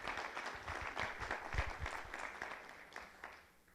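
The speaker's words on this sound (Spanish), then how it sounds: "le damos un fuerte aplauso" Audience applause honoring a guest at an event on ancestral restorative practices in Mazahua and Otomi communities, steady clapping of a moderate crowd that fades toward the end.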